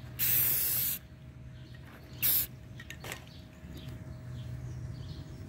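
A spray can lays down a thin first coat of arctic camo paint in two close hissing bursts, one long and one short, with quieter background between them.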